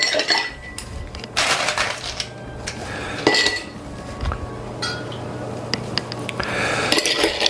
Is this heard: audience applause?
no